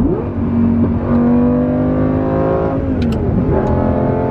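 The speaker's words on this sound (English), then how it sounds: "Oh my god, this thing pulls. It's a manual V10." A manual V10 Lamborghini Gallardo race car pulls hard in third gear, its engine note climbing steadily and loudly from close by as it accelerates, with a brief shift-like dip near the end.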